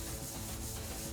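Sandpaper steadily rubbing across a loess clay bed board during finishing work, a continuous close, even scratchy rasp with no pauses.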